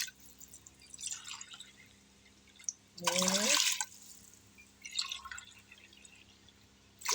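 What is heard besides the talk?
measured water poured from a tumbler onto rice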